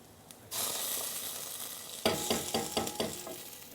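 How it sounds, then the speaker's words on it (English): Tomato paste hits a pan of caramelised onions with a sudden hiss that settles into steady close sizzling, then a few scraping stirs break through the frying. "We're now going to add our tomato paste."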